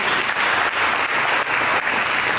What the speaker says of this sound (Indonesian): Mari berikan tepuk tangan yang meriah.